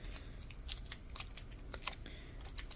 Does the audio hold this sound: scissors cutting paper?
yes